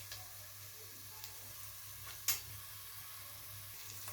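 Onions sauté with crushed ginger and garlic in a pan for egg biryani, a faint, steady sizzling hiss broken by one sharp click midway, with no talking.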